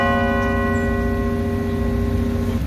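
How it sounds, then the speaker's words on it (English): A bell rings at the Herald Square holiday market in New York, its sustained, steady tones layered over dense crowd and street noise, loud and continuous with no clear strikes or pauses. "Hey, there's the bell."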